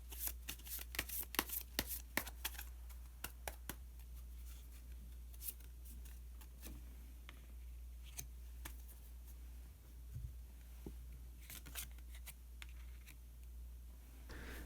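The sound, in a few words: shuffling and drawing tarot cards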